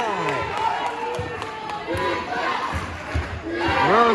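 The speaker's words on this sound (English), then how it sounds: "Crowd as loud as it's been all game" Crowd at a varsity girls' basketball game roars loudly, cheering and shouting swelling together, with squeaking sneakers and a commentator talking over the noise.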